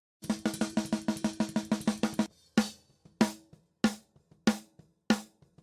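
An isolated snare drum track from a black metal mix: a fast roll of crisp, even hits, then a pause and several louder single cracks spaced apart with ringing decay.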